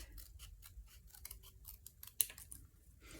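Scissors snip through paper for a fold pocket card, a quick run of small, crisp, close cuts in an irregular rhythm, quiet and alone.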